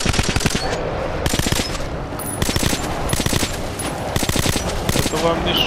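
Rapid bursts of automatic gunfire in the video game Metro: Ray of Hope, loud and close, firing in repeated volleys with short gaps across the whole stretch.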